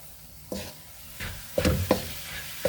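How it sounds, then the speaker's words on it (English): Cumin powder being stirred into masala frying on low heat in a pan, with a few distinct scraping strokes over a faint background sizzle, close and fairly quiet. "let's give this a stir"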